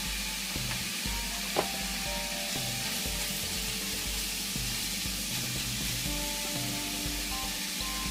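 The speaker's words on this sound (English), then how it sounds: "What we're doing here is searing all the sides to get in all the good flavors." Beef chunks for stew sear in a pan, a steady, fairly quiet hiss of sizzling fat that runs unbroken throughout, with one small tap near the start and no voices.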